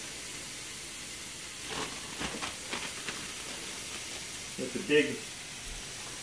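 Cabbage rice tipped into a hot pan for a cabbage and cauliflower stir fry, giving a soft sizzle with a few bursts of crackling hiss toward the end. A voice talks briefly over the quiet cooking noise.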